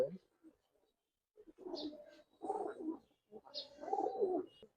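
Pigeons of the Palla line coo in soft, rounded bursts, several short phrases a few seconds apart, close and fairly quiet.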